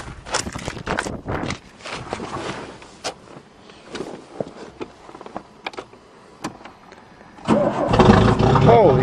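A 2009 Aries Shelby turbo wagon starting cold: a series of uneven clicks and cranking bursts, then the engine catches near the end and settles into a loud, steady idle.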